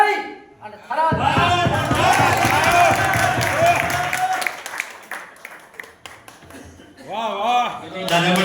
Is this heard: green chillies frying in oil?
no